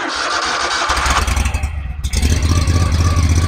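A Bad Boy Rogue mower engine cranks and fires up, catching after about two seconds and settling into a loud, close, throbbing idle.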